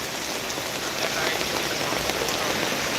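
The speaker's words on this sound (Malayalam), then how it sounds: "മഴ ഏകദേശം ഒന്ന് ശമിച്ച മട്ടാണ്" Steady, dense rain pours down outdoors, a continuous close hiss of drops hitting surfaces with no pauses and no voices.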